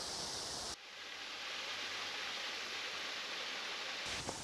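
Seminole Falls, a man-made waterfall at Rainbow Springs State Park in Florida, roars with a steady broad wash of falling water, loud and close, briefly shifting in tone at the start and end.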